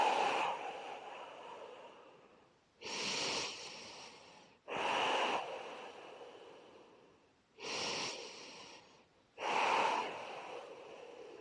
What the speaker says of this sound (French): Respirez calmement, tranquillement